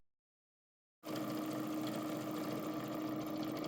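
After a second of silence, a sewing machine runs at steady speed top stitching an apron skirt close to the seam, giving a continuous even whirring hum.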